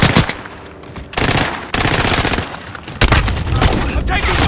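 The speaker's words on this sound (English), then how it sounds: "I'm taking fire!" Rapid automatic gunfire from Call of Duty: Modern Warfare rattles in dense bursts separated by brief gaps, loud and close, with game sounds mixed in.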